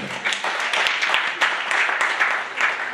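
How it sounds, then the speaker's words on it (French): Conference audience in Birmingham applauds, a steady wash of many hands clapping at moderate loudness for about three seconds with a few sharper claps standing out. "Est-ce qu'on peut applaudir pour ces grands pays?"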